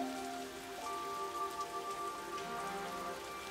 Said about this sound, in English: Just out in the rain.